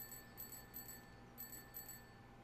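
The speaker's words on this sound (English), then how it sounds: "Little bell." A small bicycle bell in 7 Days to Die rings faintly in a few quick, light dings, spaced out over low background hum.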